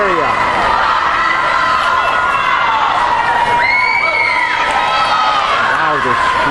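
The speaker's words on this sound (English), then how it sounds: "the screaming and the yelling is just unbelievable in here today" Spectators at a high school swim and dive meet in an indoor pool hall scream and cheer nonstop, a dense, echoing wall of shrill voices and whistles with a voice talking underneath.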